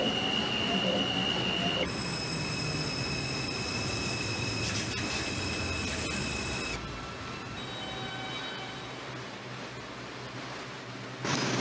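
An R142 subway train on the 2 line, Brooklyn-bound, runs steadily in the Hmmsim 2 train game, with a continuous rolling rumble, bright high tonal whines and squeals that shift partway through, and a sharp noise burst at the end.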